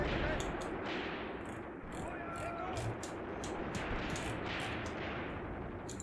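Mortar fire in the tank battle game Graviteam Tactics: Mius Front: repeated dull thuds and booms over a constant roaring rumble of battle noise, with rhythmic bursts recurring throughout.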